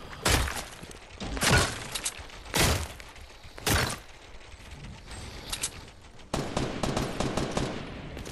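Bursts of automatic gunfire from the Fortnite video game during a two-player squad match, with several loud rapid volleys separated by short pauses and a denser stretch of continuous shooting near the end.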